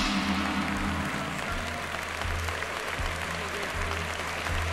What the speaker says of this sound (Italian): Dunia riceve l'applauso del palazzetto